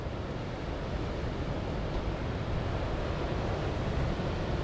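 Continuous rolling surf on Anjuna beach in Goa, a dense steady roar of waves with wind rumble, loud and unbroken throughout.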